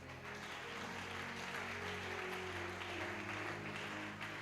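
A church congregation applauding, a steady wash of clapping from many hands at moderate distance, continuous and even, with no talk over it.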